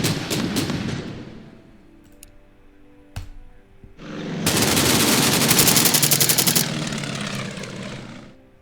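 Anti-aircraft gunfire during the Pearl Harbor battle in the wargame Order of Battle Pacific: a few sharp shots, then a sustained loud rattling burst of rapid fire for several seconds, alone without talk.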